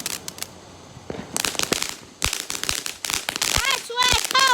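Fourth of July firecrackers and fireworks pop and crackle in rapid, irregular bursts, some sharp and close, others fainter, building toward the end as excited voices shout over them.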